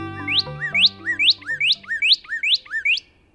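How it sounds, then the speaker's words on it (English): Northern cardinal singing a clear series of about nine rising whistled slurred notes in a steady rhythm, close and loud over a faint low background, with the song stopping at the end. "Northern cardinals are known for their iconic red feathers."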